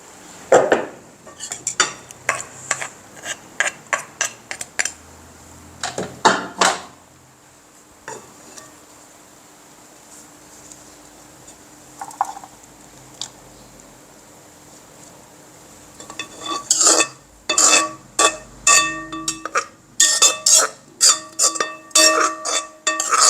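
Dishes and cutlery clink and scrape while cucumber salad with rice noodles is plated: bursts of sharp close metallic taps and spoon-on-plate scraping, a quiet pause in the middle, then busier clattering toward the end.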